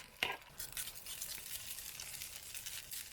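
Tortilla egg mixture with peppers and goat cheese sizzles softly after it is poured into a buttered pan, making a faint, steady hiss with a brief clink at the start.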